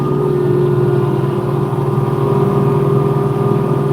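A Kubota LX2620 HSDC cab tractor fitted with a Titan plow runs steadily while plowing snow, its engine a loud, even mid-pitched drone close by, with no voices.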